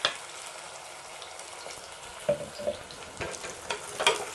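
Drumsticks sautéing in a pan of half-cooked onion and tomato masala as water goes in, a soft sizzle with scattered clatters and stirring scrapes that grow busier toward the end, no talking.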